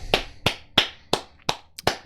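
Six or so slow, evenly spaced hand claps ring out sharp and close, like one person's sparse applause, each clap alone and separated by short silences.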